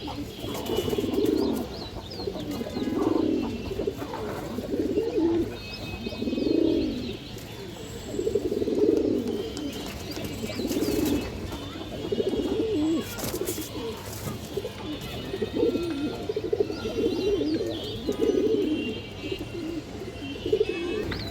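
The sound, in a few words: cooing of khaki pigeons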